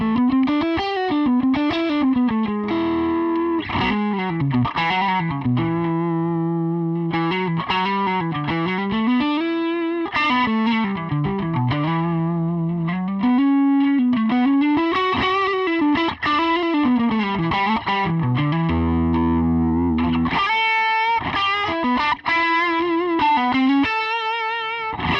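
Electric guitar through a Tube Screamer-style overdrive pedal plays melodic lines and chords, loud and continuous, with a warm, slightly crunchy distorted tone and sustained notes throughout.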